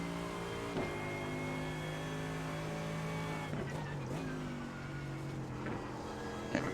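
A GT3 race car in the iRacing video game at Spa revs and holds a steady high engine drone, with gear-change dips and a few sharp shifts, while a voice talks faintly underneath.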